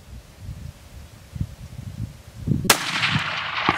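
A single loud, sharp gunshot from a powerful hunting rifle cracks out during a free-range exotic safari hunt in South Texas, following quiet rustling outdoors and trailing off into a ringing, echoing tail.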